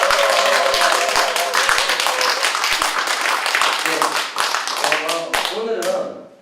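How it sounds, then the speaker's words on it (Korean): Audience at a business seminar on the gig economy and network marketing claps in a dense, steady burst with some cheering, loud and continuous before thinning out at the end. "여기 계신 분들 박수와 함성으로 진행하겠습니다."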